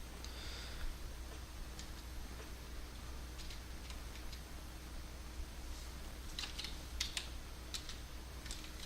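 Someone types Minecraft commands on a computer keyboard, making light, sparse key clicks in short irregular bursts, faint and close, with no talking.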